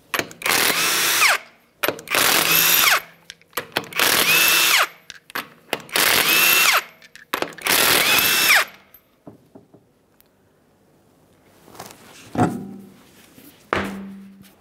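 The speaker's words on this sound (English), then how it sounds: "we're going to remove the wheel by removing all five of our 22 millimeter lug nuts" Five loud, separate bursts from an impact power tool spin off the 22 mm lug nuts on an Acura MDX rear wheel, each lasting about a second with short gaps between. Quieter clanks and handling sounds follow.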